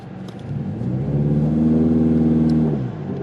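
The engine of a Ford Mustang with a 10R80 transmission revs for a launch, rising to a loud, close, held drone with a rough rumble before dropping away.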